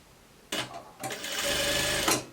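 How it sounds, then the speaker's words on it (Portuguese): A sewing machine runs a seam on a shirt with a short burst first, a brief pause, then a longer steady whir up close before it stops. "E aí eu venho aqui e passo uma costura."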